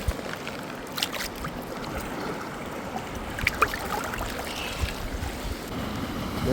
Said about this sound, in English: Rinse it in the seawater.